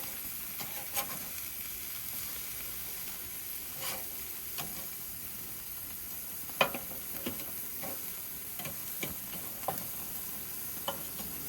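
Cheeseburger patties sizzling over direct heat on a Weber charcoal grill, a soft steady hiss with scattered sharp pops and crackles, fairly faint and without talking.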